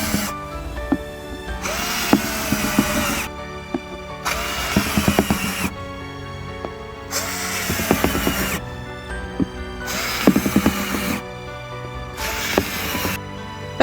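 A power drill bores drainage holes in a plant container in five or six bursts of a few seconds each, close and fairly loud, with short pauses between holes and no talk.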